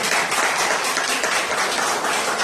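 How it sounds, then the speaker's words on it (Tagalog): A church congregation applauds steadily during a parish celebration, a dense, even wash of clapping that fills the whole stretch at close range without letting up. "Ato po nilang palakpak ulit."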